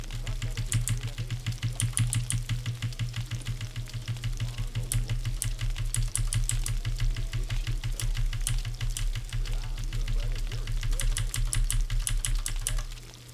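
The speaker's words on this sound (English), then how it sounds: "Sorry if you hear the mouse clicks." Rapid computer mouse clicks while playing the game Gothic, a steady stream of sharp ticks running throughout, heard over a constant low hum.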